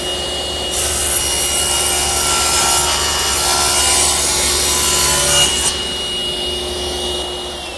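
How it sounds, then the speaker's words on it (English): Table saw with a dull blade ripping an eighth of an inch off a board's edge, a loud sustained whine as the cut runs for several seconds, then the motor drops back to idle. "So I put a blade in the table saw that's ready to be sharpened, and I'll just rip 1/8 of an inch off of each edge."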